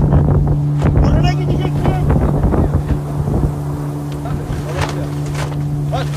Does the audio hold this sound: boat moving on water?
yes